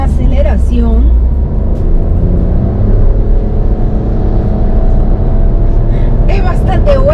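A Fiat Pulse 1.0 Turbo accelerating from inside the cabin: a steady, loud engine drone with a rising whine as the car picks up speed, and a voice talking briefly at the start and end.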